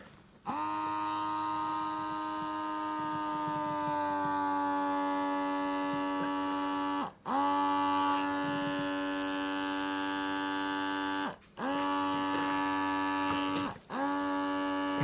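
Electric vacuum suction cup lifter pump humming steadily and loudly, a sustained tonal drone that cuts out briefly three times and restarts as it re-engages, held against a headboard.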